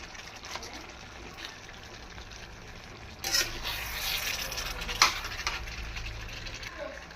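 Chicken gravy simmers under a lid in a steel pan, giving a steady, soft sizzling bubble throughout, with two brief clatters partway through.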